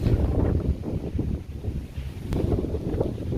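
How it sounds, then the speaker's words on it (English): Steady wind buffeting a microphone at a property in Ocho Rios, Jamaica, a low rumbling roar that rises and falls continuously, with no voices. "Windy."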